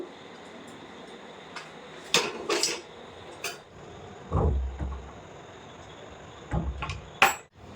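Cooked helencha greens curry poured from a pot onto a plate, with scattered metallic clanks of pot and spoon against the plate and a few duller thuds between quieter gaps, no talking.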